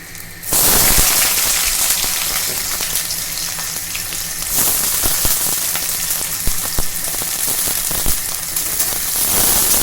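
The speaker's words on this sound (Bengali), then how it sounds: "পেঁয়াজ দেওয়ার পরে আর একটু খানিকক্ষণ ভেজে নেব পেঁয়াজটা" Chopped onions sizzle and crackle steadily in hot oil in a pan while jute leaf greens are being cooked, a continuous close frying hiss with popping spatters and no talk.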